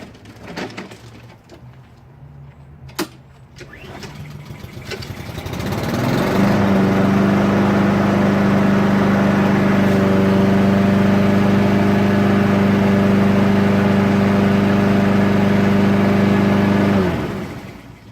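A Honda HRR216 push mower engine turning over after an oil change, with faint clicks at first, then it fires up and runs at a loud, steady drone for about ten seconds before shutting off.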